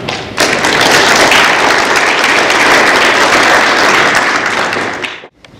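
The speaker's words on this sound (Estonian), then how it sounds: "Aplausta!" A crowd at a 2016 birthday celebration for the Noorus-96 club breaks into loud, sustained clapping that lasts several seconds and then cuts off abruptly, with no voices above it.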